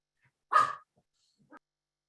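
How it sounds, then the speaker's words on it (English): A dog gives one sharp bark close by, followed by a faint short yip, in an otherwise quiet indoor room. "I know, Chris, the dogs act up there."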